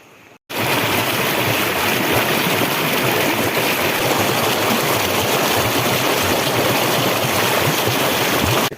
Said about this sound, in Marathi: हे बघा, हे मित्रांनो ओहळाचं पाणी आहे